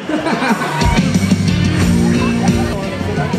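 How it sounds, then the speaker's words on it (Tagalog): A crowd shouts and cheers loudly at a live event, a sustained mass of voices swelling after a brief quieter start while an announcer speaks over the noise. "Sa kaliwa, sigaw kayo dyan"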